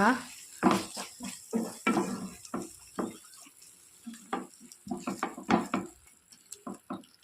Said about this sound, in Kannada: ಪ್ರಾನ್ಸ್ ಫ್ರೈ ಮಾಡಿ ಇಟ್ಟುಕೊಂಡ ಪ್ರಾನ್ಸನ್ನು ಹಾಕುವ ಹಾಕಿ ಇದಕ್ಕೆಲ್ಲ ಮಸಾಲವನ್ನು ಮಿಕ್ಸ್ ಮಾಡುವ